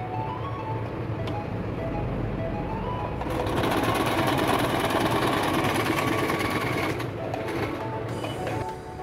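A sewing machine runs steadily and close, stitching the folded side of a cotton face mask, its fast mechanical whir rising louder midway and then easing off again with no talking.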